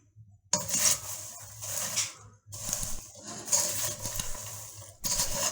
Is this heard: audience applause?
no